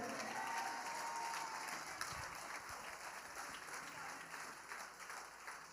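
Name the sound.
congregation applause and cheering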